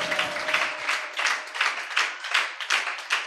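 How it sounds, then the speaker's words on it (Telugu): Steady applause from a congregation at a church service, a crowd clapping in a lively, even rhythm of repeated bursts, fairly close and loud, with a voice speaking faintly at the start. "చప్పట్లు కొట్టి దేవుని గణపరచండి"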